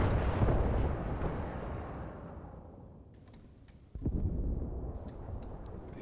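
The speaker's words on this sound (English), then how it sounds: "Here the mortar fire mission. Yeah, it's coming down, but it missed by a little bit" Mortar shells from a fire mission land in a WWII tactical war game, a loud rumbling blast that slowly decays, then a second sharp impact near four seconds with crackling debris after it.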